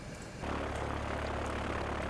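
Airplane engine in Transport Fever 2, a steady droning hum that swells in abruptly and then holds at a constant, moderate level.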